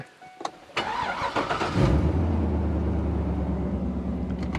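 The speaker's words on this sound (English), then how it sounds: "Let's get a cold start." A Chevy pickup truck engine cranks briefly from a cold start and catches, then settles into a steady, loud idle close by with a low rumbling drone.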